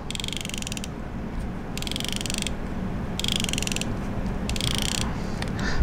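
The drag clicker on a 13 Fishing Concept A3 Gen 2 baitcasting reel gives four separate bursts of rapid, buzzing clicks, each lasting under a second, separated by short quiet gaps against faint background hiss.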